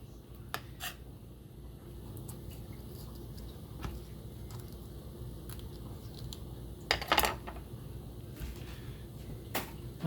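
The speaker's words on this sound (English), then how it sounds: "I'm going to now cut this tomato" A knife slicing a rinsed tomato into large slices on a cutting board for a tomato garlic Alfredo sauce: scattered soft cutting taps, with a sharper cluster of cuts midway, over a steady low kitchen hum.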